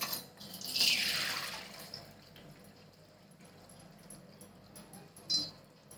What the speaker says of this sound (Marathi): आता हे पाणी ना निथळून घेते मी